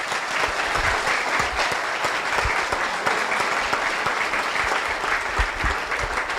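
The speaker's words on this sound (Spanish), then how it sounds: "con un aplauso le agradecemos." Audience applause at a law faculty event, a steady dense roar of clapping from a seated crowd, sustained throughout without pause.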